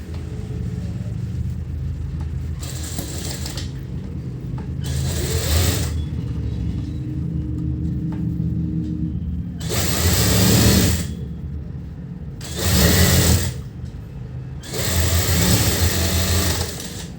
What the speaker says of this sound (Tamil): நான் இப்போ இதை தைக்கிறேன்